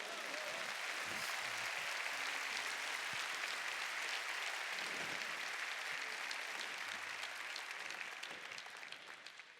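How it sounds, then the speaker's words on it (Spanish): Church congregation clapping loudly and continuously throughout, a dense close wash of applause from a large crowd that tapers off slightly at the very end. "Dale fuerte el aplauso al Señor."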